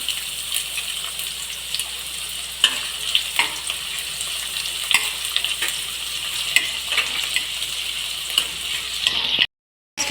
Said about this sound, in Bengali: শুকনো লঙ্কাটা এক দু মিনিট ভাজার মধ্যে লাল হয়ে গেল কুচিয়ে রাখা পেঁয়াজটা দিয়ে দিচ্ছি